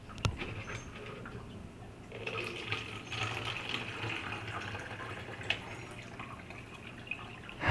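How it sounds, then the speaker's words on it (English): Fresh tap water runs and trickles from a household faucet into a container for a hydroponic plant setup, a steady, soft close splashing and dripping with no voices. "Just fresh water out of your faucet."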